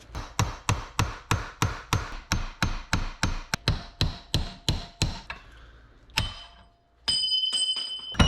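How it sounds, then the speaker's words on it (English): A hammer strikes a brass punch driving out a bearing race on a 14-bolt axle in a rapid, steady series of sharp clanks, then a few slower hits and a ringing metallic tap. "put a brass punch in the areas, work my way all the way around it, hit it with a hammer"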